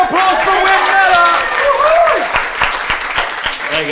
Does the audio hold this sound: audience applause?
yes